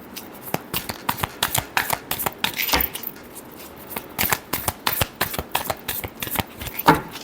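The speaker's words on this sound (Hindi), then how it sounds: "last shuffle," Tarot cards are shuffled by hand close up, giving rapid riffling and slapping bursts in an uneven rhythm that lasts the whole time, with no speech.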